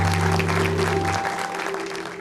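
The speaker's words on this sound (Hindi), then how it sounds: "मोइन बेग और मलका आपा की भी तालियां." Audience applause, a dense wash of clapping that fades somewhat toward the end, with a low tone dropping out partway.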